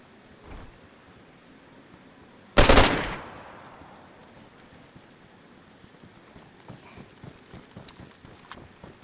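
A single loud, close gunshot cracks out in the DayZ video game and fades into a short echo. Soft, rapid rustling footsteps and movement follow at a lower level.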